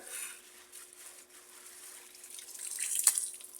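Water runs steadily from a tap while laundry washed with shampoo is rinsed by hand, a soft continuous hiss that grows slightly louder toward the end, with no talking.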